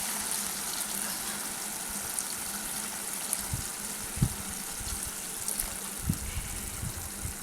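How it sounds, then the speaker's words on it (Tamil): Water poured into a pan of paneer gravy in a home kitchen, a steady soft gushing stream with a few light clinks and bubbles, fairly quiet and with no talk. "இப்போ நம்ம தேவையான அளவு தண்ணி ஆட் பண்ணிக்கணும்."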